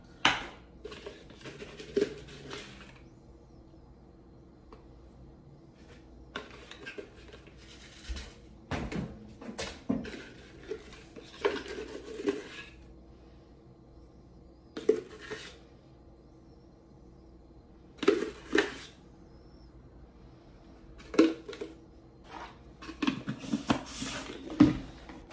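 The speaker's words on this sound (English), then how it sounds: "Next, we got 2 scoops of Carb HD." Powder supplement being scooped and tipped into a container in a kitchen, with soft scrapes, light plastic taps and clicks spaced out at close range over a quiet background.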